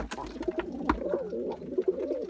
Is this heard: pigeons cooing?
yes